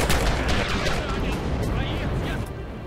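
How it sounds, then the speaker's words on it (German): Gunfire in the WWII shooter Red Orchestra 2 on a realism server: a dense, continuous barrage of rifle and machine-gun shots that stays loud for the whole stretch. "Vor mir steht einer und ich kann einfach hinschießen."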